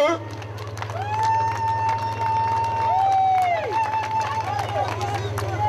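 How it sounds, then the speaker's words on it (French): Outdoor rally crowd at Place du Trocadéro in Paris applauding and cheering steadily for several seconds, with a loud, continuous low hum underneath and voices rising in tonal shouts over the clapping. "je tiens à ce que vous applaudissez pour vous-même"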